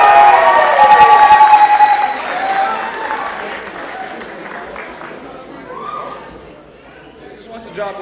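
Audience at a Muslim City Fest 2018 award ceremony applauds a technology coordinator being honored, with clapping and cheering loudest at first, then thinning out, while crowd chatter continues throughout.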